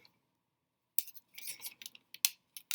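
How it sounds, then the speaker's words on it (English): Several pairs of scissors being handled, giving a quick series of faint, sharp metallic clicks and snips in short irregular bursts after a moment of near silence, with no talking. "Yeah, they're scissors."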